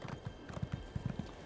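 Horse mount's hooves clip-clop in a steady trotting rhythm in The Elder Scrolls Online, moderately close and alone, with no talk over them.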